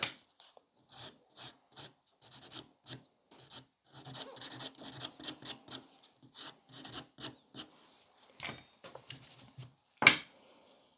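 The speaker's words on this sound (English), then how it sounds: "So I'm filing below that lifting." Nail file rasping on a gel nail, a series of short scratchy strokes in irregular bursts, close and fairly quiet, ending with a sharp louder scrape.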